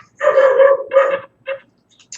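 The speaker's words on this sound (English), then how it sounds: "the dog is barking and I can't do anything about it" A dog barks nearby in a short burst of three sharp, loud barks separated by brief pauses, followed by a faint yip.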